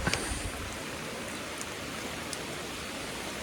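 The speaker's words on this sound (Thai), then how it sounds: "ฝนตก" Steady rain falling around a fighting-cock farm pen, a dense, even hiss that stays constant throughout, with a few faint drips and taps near the start.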